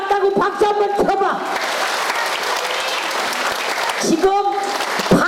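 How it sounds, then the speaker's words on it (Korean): A theater audience at a nostalgic variety comedy show breaks into sustained applause, with a performer's voice heard before and after. "마지막 맞다고 박수 한번 쳐봐"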